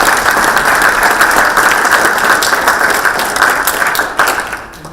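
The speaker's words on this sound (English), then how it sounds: "Everybody, big round of applause for the" A large audience at a city candidates' debate breaks into sustained applause, loud, dense and steady for several seconds before tapering off.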